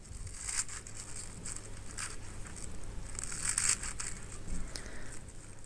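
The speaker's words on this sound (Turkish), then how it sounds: "İyicene ıspanaklarımı yıkadıktan sonra istediğiniz boyutta kesebilirsiniz." A knife cuts through washed fresh spinach leaves on a board, giving soft, quiet crunchy snips that come in irregular bursts.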